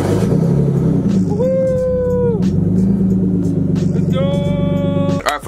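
A car engine runs after its rat-infested engine bay was cleaned and restored for turbo preparation, a steady rumble throughout with two rising whines as it revs, no talking.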